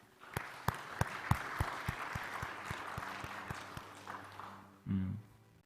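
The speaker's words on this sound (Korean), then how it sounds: "따뜻한 위로의 박수 한번 더 보내드리도록 합시다." A church congregation at a Sunday service gives a short round of applause, sparse claps rising then thinning out, followed by a brief voice near the end.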